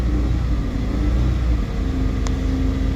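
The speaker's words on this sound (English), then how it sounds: "And if you'll give a gas, it will go faster, a lot faster." A 2000 Daihatsu Hijet 4x4 dump truck with a five-speed manual gearbox accelerating, its small engine giving a steady close rumble that rises slightly in pitch over a few seconds.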